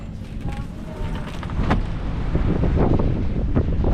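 Strong wind buffets the microphone outdoors as a low, rumbling roar that grows louder and gustier after the first second and a half.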